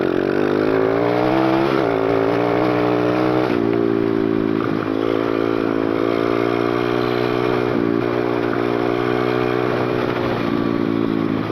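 A Yamaha 125 dirt bike engine running while being ridden on a trail, a loud close buzzing drone that shifts pitch through gear changes and throttle, with no talking.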